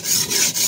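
A steel 3 Ram #1 cleaver is sharpened on the coarse 100 grit side of a stone, giving close, loud rasping strokes, about three back-and-forth scrapes in quick rhythm.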